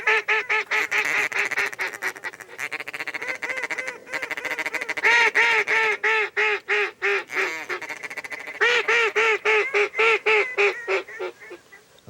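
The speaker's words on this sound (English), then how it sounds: "Another group of ducks came winging in while Ben" A flock of ducks flies in during a hunt, filling the air with loud, continuous honking and quacking calls, overlapping and near, with a brief dip around the middle before the calling swells again.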